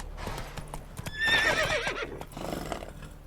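Roach, a horse in The Witcher 3, gallops with rapid clip-clopping hooves and lets out a loud neigh partway through, with the hoofbeats continuing steadily around it.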